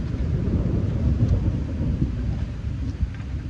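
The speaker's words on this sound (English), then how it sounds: "apparently it's meant to get a really big storm tonight, like this afternoon tonight, and it just seems that it's got here early instead" Thunder rumbling from a storm arriving early during an afternoon of yard work, a deep continuous low roll with heavy low-end rumble and some wind buffeting, steady and fairly loud throughout with no voices.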